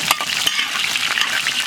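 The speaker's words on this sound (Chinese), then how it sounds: "锅里倒点油，油后下入葱姜橄榄椒" Scallion, ginger and olive peppers stir-fry in hot oil in a wok, giving a bright, steady sizzle with a few scraping stirs, close and alone.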